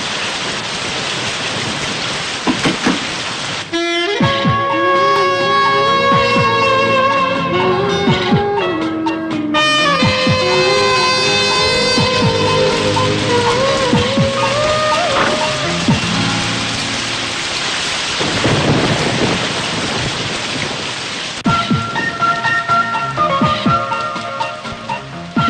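Heavy rain pours steadily for the whole stretch, loud and continuous beneath a swelling musical score, while a car sits stalled nearby.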